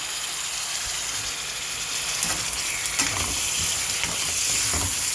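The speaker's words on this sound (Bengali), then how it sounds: "আলুটা ভালোভাবে একটু ভাজি করব পেঁয়াজের ভিতরে।" Potatoes fry with browned onions in a pan, giving a continuous close sizzle with occasional stirring scrapes and knocks.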